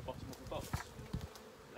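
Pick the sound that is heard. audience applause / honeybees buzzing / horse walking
honeybees buzzing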